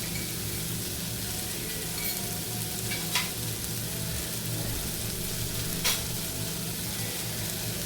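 Vegetables for garlic fenugreek (lasuni methi) sizzle steadily in a pan as Kitchen King masala is stirred in, an even hiss with a couple of brief louder crackles and no talking.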